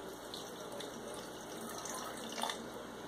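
Tap water runs from a kitchen faucet in a steady, fairly quiet stream, a continuous hissing splash with a small surge near the end.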